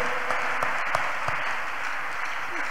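A church congregation claps in dense, steady applause that holds at an even level throughout, with faint voices underneath.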